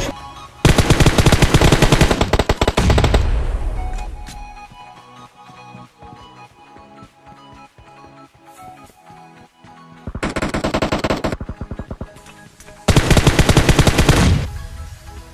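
Gunfire in a PUBG-style battle royale game, with long, very loud bursts of automatic fire separated by a quieter stretch of echoing single shots and game sounds, then two more heavy bursts, with no talking.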